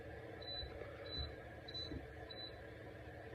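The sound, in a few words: piezo beeps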